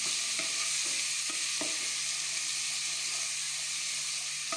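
Masala for a Kerala-style prawn roast sautés in a pan with a steady, even sizzle throughout, broken by a few soft scraping stirs, close and alone with no voices.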